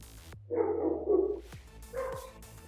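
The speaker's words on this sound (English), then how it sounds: "Sorry, the dogs are barking." A dog barks in two short, gruff bursts, with a brief pause between them, fairly close and loud against a quiet background.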